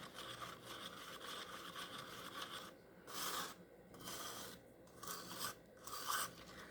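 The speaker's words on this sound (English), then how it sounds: "And just mix it for 2 minutes." Bond Crafter casting powder being mixed by hand in a container, giving a steady scraping, rasping stir with several louder bursts of rubbing toward the end, close and fairly quiet, no voices.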